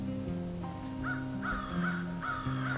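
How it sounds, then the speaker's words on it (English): Crows cawing: several harsh, repeated caws spaced about half a second apart, moderately near, over a steady low background hum with no talking. "the call of crows"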